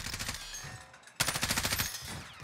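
Gunfire in the video game Warzone: rapid automatic bursts, the first fading, then a sharp, louder burst of evenly spaced shots, fairly quiet overall.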